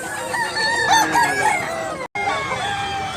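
A Blackwell gamecock crows loudly and close by, a drawn-out cock-a-doodle-doo over a busy background of other birds.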